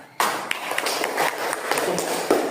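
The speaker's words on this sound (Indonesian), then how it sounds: "Tepuk tangan." A school classroom of students clapping their hands together: a burst of scattered, uneven claps that starts abruptly after a brief quiet and carries on at moderate loudness, with occasional sharper individual claps standing out.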